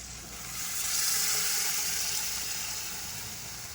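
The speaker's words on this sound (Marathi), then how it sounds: "आता यामध्ये ही शिजवलेली डाळ घालायची" Steady loud sizzling and frying as cooked lentils go into a hot pan, swelling after a moment and holding on continuously with no talk.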